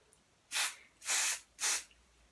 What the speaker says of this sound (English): I'm spraying behind my hand so that I can be able to control it.